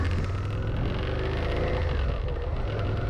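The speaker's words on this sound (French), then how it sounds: "Donc la moto c'est une SV650" Suzuki SV650 motorcycle being ridden, its engine droning steadily with wind rush through a helmet intercom microphone, continuous and close with no talk.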